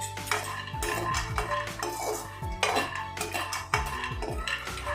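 Cashews and almonds dry roasting in a pan while being stirred, giving steady scraping and clinking of a utensil against the metal, with repeated sharp knocks, close and continuous without talk.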